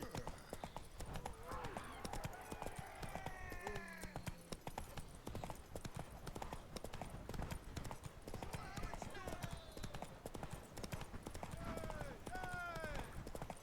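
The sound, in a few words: horse hooves galloping in video game The Witcher 3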